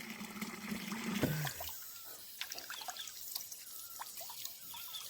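Water trickling and dripping from a tap outdoors in Pausari village, Uttarakhand, while someone washes their face, with soft splashes and drips over a quiet background and a brief louder burst early on.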